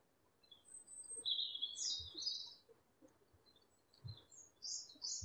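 A hummingbird gives several high, thin chirps and twittering calls spread across a few seconds over faint background hiss, with occasional soft low knocks and no voices.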